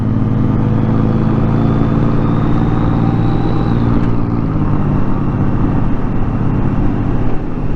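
2008 Honda GL1800 motorcycle cruising with a trailer in tow, a steady loud engine drone and road rumble under wind noise, holding an even level throughout with no voices.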